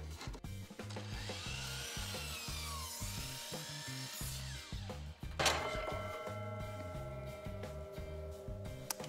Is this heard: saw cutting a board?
yes